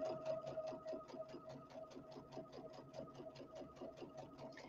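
A Brother Luminaire sewing machine runs a straight stitch at a quarter inch, its needle chattering in a quick, even rhythm of about four strokes per second over a steady motor hum, close and fairly quiet.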